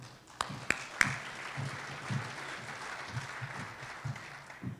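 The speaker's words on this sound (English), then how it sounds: "So give her a round of applause." A few sharp claps open a soft, thin round of applause from an audience at a veterans' town hall, with the scattered clapping staying fairly faint throughout.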